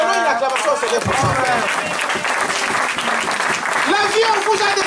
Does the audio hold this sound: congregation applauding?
yes